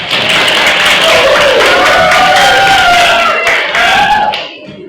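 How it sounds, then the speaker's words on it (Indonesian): A class of students applauding together in a classroom, loud, dense clapping close by that holds steady for several seconds, with some cheering, before it quickly dies away. "tepuk tangan semuanya"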